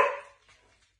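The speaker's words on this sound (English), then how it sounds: "He's barked because he's like, what do you want me to do?" A single short bark from a dog during send-away training, loud and close, fading quickly into near silence.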